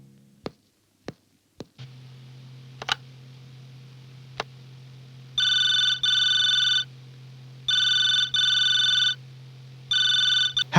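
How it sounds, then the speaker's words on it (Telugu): Telephone ringing indoors in three bursts, each a pair of electronic trills with short gaps between them, loud and close over a low steady hum, with a few clicks and taps before the ringing starts. "ఫోన్ 4 సార్లు రింగ్ అయితే గానీ ఎత్తడం అలవాట లేదా?"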